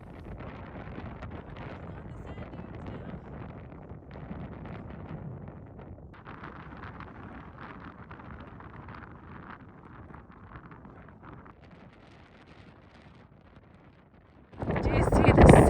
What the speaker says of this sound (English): Do you see the sand blowing off up there? That's how windy it is.